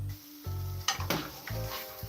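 Pancake batter sizzles and crackles in a large hot pan, a steady close frying hiss with a few brief scraping clatters.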